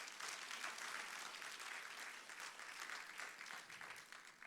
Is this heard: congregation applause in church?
yes